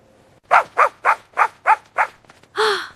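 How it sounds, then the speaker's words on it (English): A dog barking close by in a quick series of seven sharp barks, ending with a longer, drawn-out yelp or howl. "A dog chased me."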